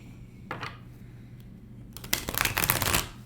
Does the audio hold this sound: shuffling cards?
yes